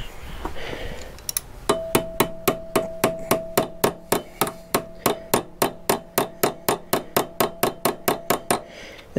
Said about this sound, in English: I'm going to tap that in a little bit with a hammer